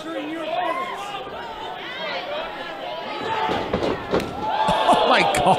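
A step-up knee strike lands with a sharp thud during an indie wrestling match staged at a museum. The impact rises out of steady crowd chatter and commentators talking, followed by a few more thumps and shouts from the audience.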